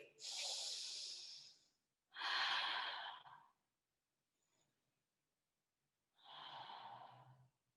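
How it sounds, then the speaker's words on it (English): Slow deep breaths taken during a neck stretch in a posture session, three long airy inhales and exhales of about one and a half seconds each, close and soft, with quiet gaps between. "One more big breath here."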